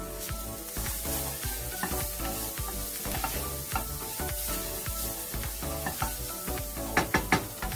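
Stirring a samosa spinach filling frying in a pan with black and white pepper, a continuous soft sizzle with scraping stirs and a few sharp clicks near the end, close but fairly quiet over faint music.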